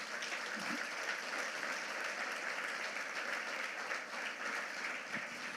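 A church congregation claps together in steady, sustained applause, close and even throughout, with no talking over it.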